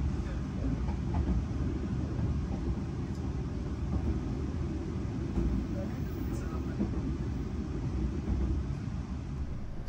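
Batavia passenger train pulling out of Jakarta, heard as a steady low rumble of wheels on rails with a continuous onboard drone throughout, faint scattered clicks and a murmur of talk beneath.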